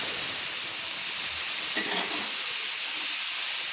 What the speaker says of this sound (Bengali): 15 সেকেন্ড মতো আমি চিংড়ি মাছগুলো ভেজে নিচ্ছি